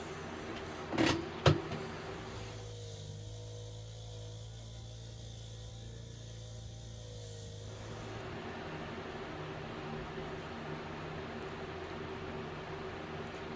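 A motor-driven wire wheel spins against Utica pliers, a steady whirring hum for several seconds after two brief knocks, then easing into a quieter, hissing run.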